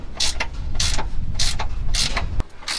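A four-way lug wrench turns a long bolt on a Honda Fit during home maintenance, giving repeated rhythmic ratcheting bursts about every half second, close and fairly loud, with one sharp metallic click near the end.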